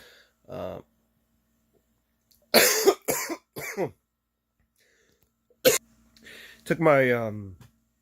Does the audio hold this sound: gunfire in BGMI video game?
no